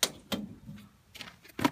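Inner door of a renewable-energy furnace opened by hand, a few short clattery metallic clicks and bumps spaced over under two seconds, close and moderately loud.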